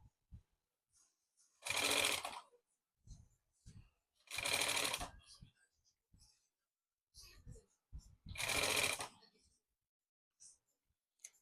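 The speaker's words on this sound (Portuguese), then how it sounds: "E vamos passar a costurinha até o final." A sewing machine stitches a seam on a fabric maternity organizer pouch with a zipper, running in three loud bursts separated by pauses with soft handling clicks.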